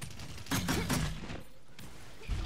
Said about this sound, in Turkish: Biri bana sıkıyor.